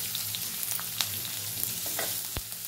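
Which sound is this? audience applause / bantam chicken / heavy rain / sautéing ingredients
sautéing ingredients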